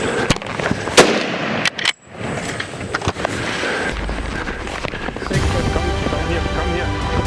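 Gunshots ring out in a dangerous adventure game scene, a few sharp loud cracks early on followed by continuous rattling bursts and background noise with talking mixed in.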